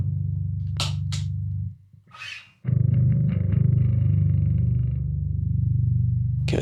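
Bass guitar played through a Mircotubes D7K distortion pedal, a Darkglass-style clone, into a Kustom bass amp: a short gap, then sustained, loud, heavily distorted low notes ringing on steadily.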